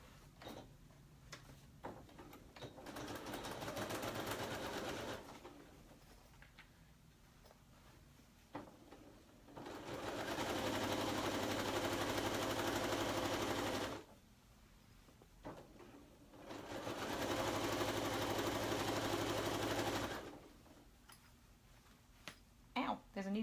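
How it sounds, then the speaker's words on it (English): A sewing machine stitches a seam on a slouch bag with its lining. It runs in three separate whirring bursts, and a voice talks in the pauses between them. "I'm going to sew with this side up"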